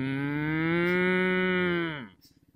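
A person imitates a cow with one long, loud, sustained low moo that falls off sharply at the end, followed by a short trailing rumble.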